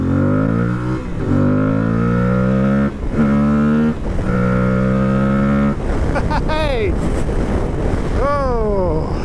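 An Aprilia Tuareg 660 adventure motorcycle of 80 horsepower accelerates at full power, its engine note climbing through several gears with rising pitch and short dips at each shift, loud and close amid wind noise.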